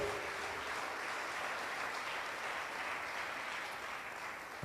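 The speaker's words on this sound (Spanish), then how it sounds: "Dele fuerte las palmas al Señor en el nombre de Jesús." A congregation at a Spanish-language church service applauds for the Lord, with many hands clapping in a continuous, even roar that carries on for several seconds at moderate volume, without voices.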